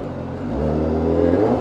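A reflashed Honda CBR1000RR-R Fireblade SP engine revs up briefly and loudly, the pitch climbing partway through a short burst.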